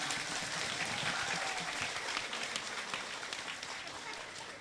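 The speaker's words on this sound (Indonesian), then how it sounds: "kasih tepuk tangan" Audience applause at a nighttime Islamic religious gathering, a dense, sustained wash of clapping from a large crowd that stays loud throughout and tapers slightly at the end.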